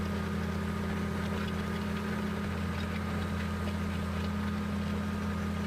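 Tractor engine in the video game Farming Simulator 15, a steady, low, humming idle with a constant vibrating drone, close and unchanging throughout, no voices.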